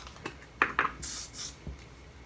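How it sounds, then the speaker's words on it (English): Texturizing hair spray released in a short hissing burst of about half a second, fairly quiet and close, with a few faint clicks and clinks before it. "spraying on your hair always works better. This is a texturizing spray."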